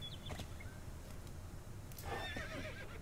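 Horse neighing in the Star Stable online video game, a short whinny near the start and another around the middle, quiet under a steady game background with no talk.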